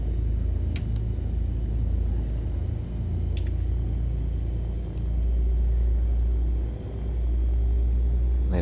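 Light aircraft engine revving steadily while taxiing at Chirk Airfield in a flight simulator, a loud, continuous low drone with slight dips in power and a few faint clicks over it.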